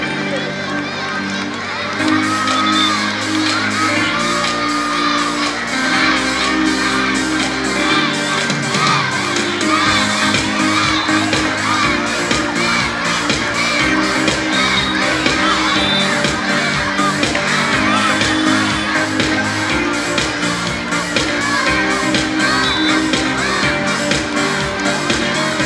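School houses cheering at a sports meet relay: a large crowd of children shouts and cheers continuously and loudly, with an amplified voice talking over the noise throughout.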